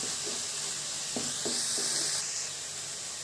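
Spinach sautéing in a pan for an Indian keerai poriyal gives off a steady, close hiss of sizzling, with a few soft clicks and stirring knocks underneath.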